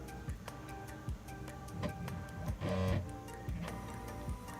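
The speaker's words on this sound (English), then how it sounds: "I guess it just drives them both to the top until they grind out." The Z-axis stepper motors of a Prusa MK4 3D printer kit build drive upward with a regular ticking rhythm, rising to a louder grinding whir for a moment before the ticking resumes.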